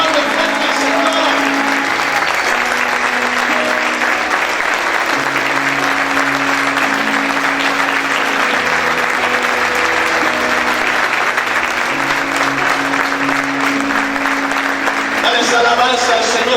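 A church congregation claps hard and continuously for a long stretch, forming a thick wash of applause over steady background music, with voices faintly blended in.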